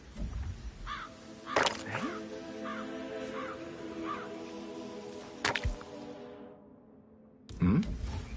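Crows caw repeatedly in a Hitman level at an English manor, several harsh calls spaced across the scene over a steady ambient hum, with a few thumps and clicks between them.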